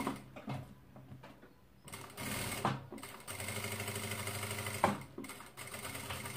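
Domestic sewing machine backstitching in reverse at the start of a seam on a fabric organizer case, a steady close mechanical whir with a few brief clicks and no talking.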